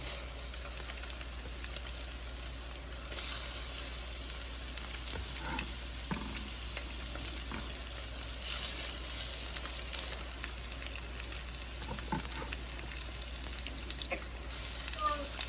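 Salmon sizzles in butter in a pan, a steady close frying hiss with a few clinks and scrapes scattered through, and no clear talk over it.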